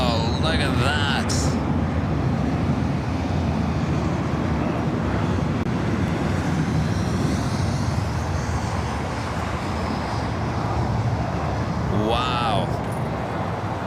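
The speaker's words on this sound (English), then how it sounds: "An American 777 at 300ER landing on the north side at 24 right." Broad, steady rumble of an American Airlines Boeing 777-300ER landing on runway 24R at LAX, heard from outdoors with wind, while a person speaks briefly.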